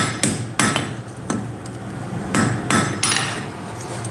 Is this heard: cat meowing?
no